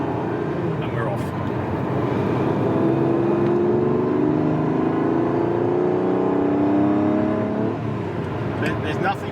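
A Ferrari Berlinetta Boxer with carburettors pulls away in second gear at under 20 mph around a roundabout, its engine note rising steadily in a climbing drone under a voice.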